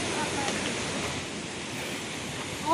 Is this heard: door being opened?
no